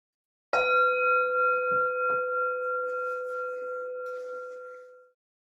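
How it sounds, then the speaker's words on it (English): A single meditation bell is struck once at the start of a sitting, ringing out clear and close with a long, steady tone that slowly fades over about four seconds. "Now ring a bell"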